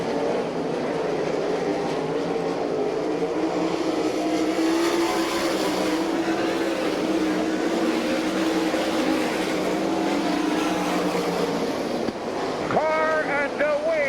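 Sprint cars in an All Star Circuit of Champions race at a dirt track in Abbottstown, PA, make a continuous loud engine roar that rises and falls as they pass. An announcer talks over the noise throughout.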